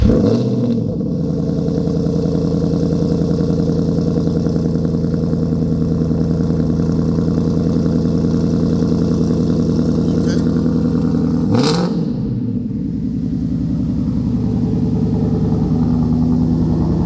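A 2026 Ford Mustang RTR Spec 5, rated at 870 horsepower, idles with a loud, steady exhaust rumble close by and gives one brief sharp blip partway through, while people talk nearby.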